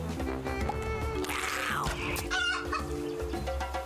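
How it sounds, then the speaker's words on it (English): Chickens cluck and squawk repeatedly over game music in a claymation roguelike video game, with a busy, layered mix of animal calls and effects. "So there's chickens, and we have to throw them into the coop."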